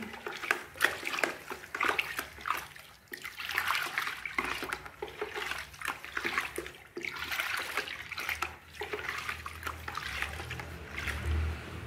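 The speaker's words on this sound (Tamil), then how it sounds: "இதை வந்து நல்ல ஒரு ஸ்டிரர் மூலமாக நல்லா வந்து கலக்கிட்டே" Homemade phenyl solution is stirred in water with a stirrer, making continuous close swishing and sloshing with small splashes that swell and ease in waves over several seconds. No voices are present.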